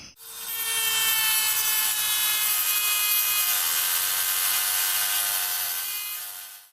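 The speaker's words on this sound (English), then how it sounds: "See if I can't sawzall the other one off and compare." A reciprocating saw cuts through a door hinge pin on an '89 Cherokee, producing a continuous, loud, buzzing metal-cutting rasp that holds steady for nearly seven seconds with no voices.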